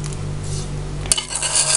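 Eggs and sugar whisked in a bowl for a banana cake, a continuous close, rapid metallic scraping and clatter of a whisk against the bowl, with no talking.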